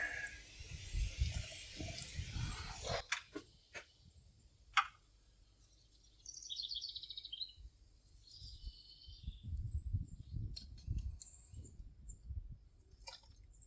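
Tap water runs into a small dollar-store hummingbird feeder while it is filled for sugar water, a faint trickle in short bursts broken by clicks and handling knocks at close range.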